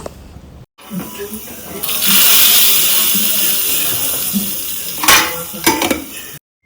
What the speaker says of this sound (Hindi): लगाएंगे दही बड़े में तड़का